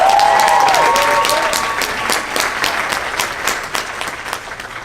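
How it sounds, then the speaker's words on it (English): An audience at a showcase applauds Gavin, loud clapping with a brief cheer at the start, fading gradually into scattered claps. "Let's give him a round of applause."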